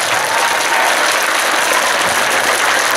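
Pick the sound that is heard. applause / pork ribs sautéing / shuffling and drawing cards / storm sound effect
applause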